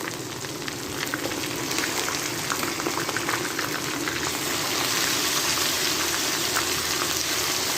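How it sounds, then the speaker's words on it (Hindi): Onions fry with ginger garlic paste in a pan, giving a loud, steady, close bubbling sizzle that holds without a break, with no talking over it. "प्याज हमारे अच्छी तरह से सॉफ्ट हो जाए तब तक हम इसे भूनें।"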